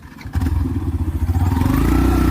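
A motorcycle pulls away at the start of a ride, its engine loud and close, throbbing with a pulsing rhythm and rising as it revs and accelerates, with some clatter at the start.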